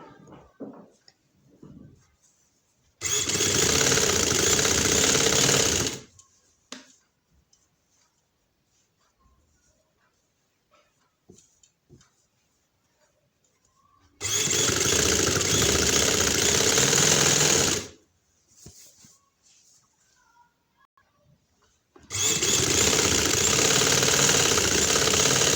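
Sewing machine stitching a shalwar, running in three steady loud bursts of a few seconds each with quiet pauses between, close up and without talk.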